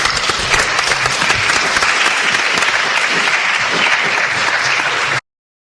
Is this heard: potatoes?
no